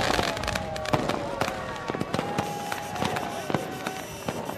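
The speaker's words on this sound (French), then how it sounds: "Feux d'artifice" Fireworks bursting over a millennium celebration crowd at the Mont des Arts in Brussels, with rapid, irregular pops and crackles in dense succession and faint crowd voices mixed underneath.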